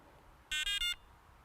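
A Sonik VaderX carp-fishing bite alarm receiver powers on with three quick, loud electronic beeps in a row, each a bright tonal bleep, followed by quiet.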